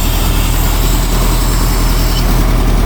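An International Loadstar truck engine idles loud and close, a continuous low rumble with a steady rough throb and no voices.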